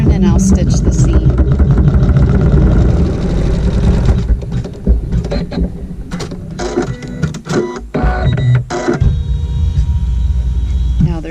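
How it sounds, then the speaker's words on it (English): A sewing machine stitches a seam in fabric for a French braid quilt, a fast rhythmic mechanical whir that runs steadily, then stops and restarts in shorter bursts with clicks and handling sounds. "I'm back to fabric 1, doing a seam in this corner right here. So right side down, raw edges even, and I'll stitch the seam."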